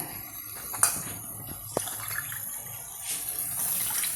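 Milk pours into a pot for payasam in a continuous, close splashing trickle with a couple of sharper splashes.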